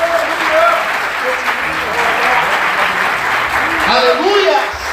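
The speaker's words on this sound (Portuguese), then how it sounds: "Você pode aplaudir o Senhor?" Congregation applauding during a church service, dense sustained clapping from many hands with voices and shouts of praise mixed in over it.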